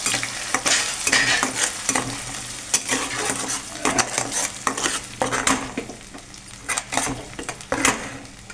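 Masala with onion, tomato and khoa frying in oil in a pan, a loud close sizzle broken by repeated scraping spatula strokes and pan clinks.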